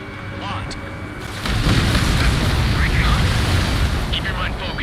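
An aircraft blows up in Ace Combat 7, a loud, booming explosion that swells into a long roaring rumble, with brief radio-style chatter over it.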